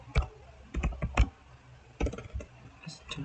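Code is typed on a computer keyboard in short bursts of close, crisp key clicks separated by brief pauses, with no voice.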